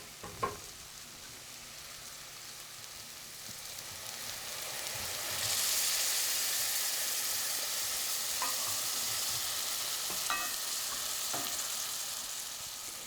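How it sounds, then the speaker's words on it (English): Leeks braising in a pan with a little chicken stock, giving a steady soft sizzle and bubble that swells midway, with a few light clinks of stirring near the start and later. "I'm actually going to do what's called braising, which is cook with a little bit of liquid."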